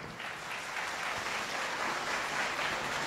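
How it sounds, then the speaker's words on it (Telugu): An audience at a boot camp seminar in a hall claps together, a dense, steady burst of applause that holds at even loudness throughout, with no one talking. "గట్టిగా చప్పట్లు కొట్టండి ఒకసారి"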